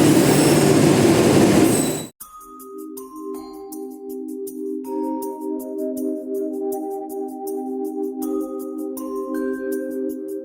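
A train on the line from Vasai toward Ernakulam runs along the rails with a steady rolling drone and sustained tonal wheel squeal, entering after a loud burst of noise and continuing evenly throughout.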